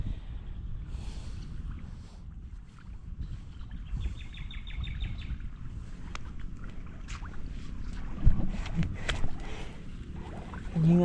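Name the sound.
engine-driven water pump irrigating a bitter gourd field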